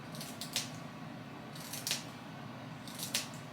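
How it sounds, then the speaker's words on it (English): Three close snips of scissors cutting one's own hair for a shag haircut, each a short crisp double-crunch spaced about a second and a half apart against quiet room noise. "I'm cutting my hair"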